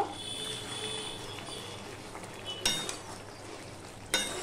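Elephant foot yam (ol kochu) simmers in a covered pan, a steady soft bubbling sizzle close by, punctuated by two sharp clinks from the lid or utensils.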